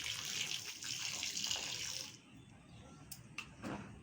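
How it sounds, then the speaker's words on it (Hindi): Water poured onto the soil of a repotted tecoma plant, a steady close splashing trickle for about two seconds, then quieter dripping and soaking with a few soft knocks. "अब इसमें थोड़ा सा पानी दे दी ताकि अंदर तक की मिट्टी अच्छी से गीली हो जाए"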